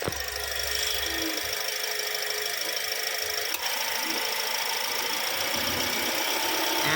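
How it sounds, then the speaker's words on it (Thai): A 2017 Toyota Vios 1.5E Dual VVT-i engine with CVT idles in its engine bay, a steady close mechanical whine and hum with a faint tonal drone, a brief click partway through. "เดี๋ยวมาฟังเสียงเครื่องกันสักหน่อยนะฮะ"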